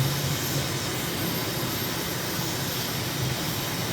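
A jet airliner's engines drone in a flight simulator climbing to 1500 feet after liftoff from a large US airport, a steady, loud, broadband roar with no change or talk.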